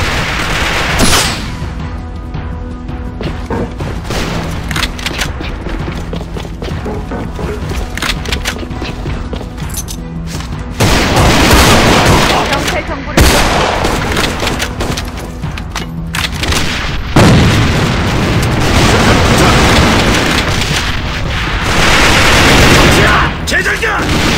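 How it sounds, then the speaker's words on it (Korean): In the A.V.A shooter on a dock map, loud booming blasts and bursts of gunfire crowd together. Heavy explosions hit around the middle and again later, over continuous weapon fire and brief shouted voices. "수류탄 도착!"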